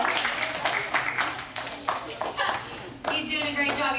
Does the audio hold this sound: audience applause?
yes